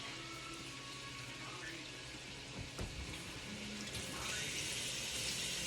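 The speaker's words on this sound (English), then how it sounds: "let me wash my knife and my hand." Tap water runs steadily over a knife and hands being washed at a kitchen sink during red bean cooking, a continuous close splashing hiss with no talk.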